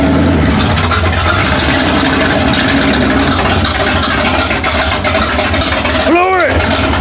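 A 2005 Ford Explorer engine runs steadily as the SUV drives off the end of a trailer, with broad, continuous mechanical noise throughout and a brief rising squeal near the end. Voices can be heard over it.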